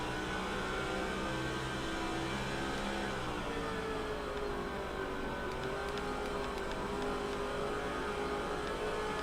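Simulated NASCAR Busch Series race car at Richmond in NASCAR 05, engine droning steadily with rising pitch as the throttle comes back on after a corner, continuous and close with no talk.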